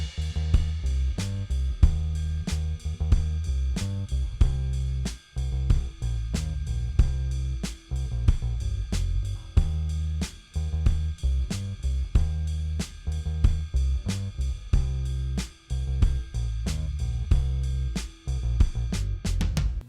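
A bass guitar plays the chorus lick of a song over a full band backing track, with a steady groove of plucked low notes repeating throughout, loud and close with no voices.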